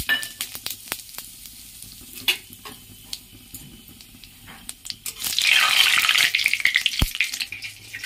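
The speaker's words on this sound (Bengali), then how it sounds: "তেল গরম হয়ে গেছে, তেজপাতা জিরে ফোড়ন দিয়ে দিচ্ছি।" Bay leaf and cumin hit hot oil, giving a sharp, close crackle that rises into a loud hiss partway through, with scattered clinks and pops around it.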